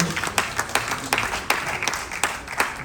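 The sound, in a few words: audience applause and clapping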